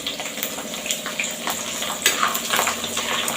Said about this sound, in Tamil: இந்த எண்ணெயில் வேகிறது தான் பூண்டு